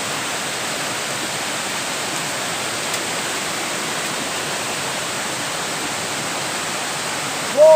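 Cambuco waterfall in Jussaral, a long cascade more than a kilometre of falls descending, gives a steady, dense roar of falling water, loud and unbroken throughout, with a brief higher tone near the end.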